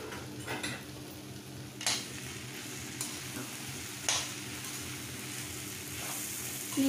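Onions sauté in a pan for vada curry, a constant soft sizzle broken by a few sharp spoon clanks and scraping stirs against the pan.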